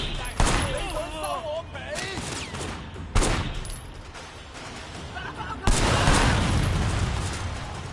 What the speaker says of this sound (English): Shooting in this game isn't the best, I'll be honest.